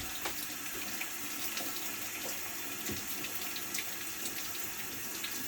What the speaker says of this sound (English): So I'm going to rinse it one last time.